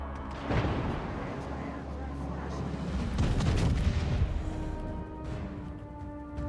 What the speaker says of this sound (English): I'm going to get another shot off on him